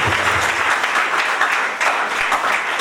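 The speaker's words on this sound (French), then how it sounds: "Plus on applaudit très fort pour cette opposition" Loud, dense applause from a crowd at a town hall meeting, clapping steadily and continuously throughout.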